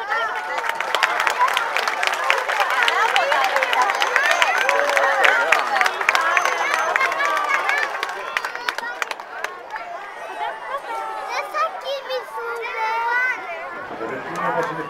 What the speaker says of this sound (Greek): Και με τον τρόπο τους αδερφούς μας σας ανταποδίδουν το χειροκρότημα.